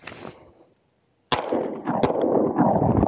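Loud shotgun blasts at an outdoor shooting session: a sharp report, a gap of quiet, then two more heavy booming shots with rumbling echo, nearby and dominant.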